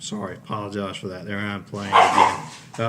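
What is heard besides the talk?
dog barking while chasing a rabbit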